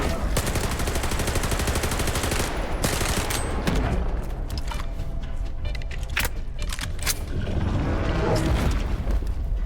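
Bursts of rapid automatic gunfire in Stalker 2 crackle loudly and continuously, with dense volleys at the start, short gaps, and scattered single shots and booms later.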